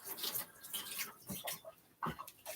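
Running water from a tap briefly rinses the bottom of a muffin cup, making faint, uneven splashing bursts over about two seconds with no talking.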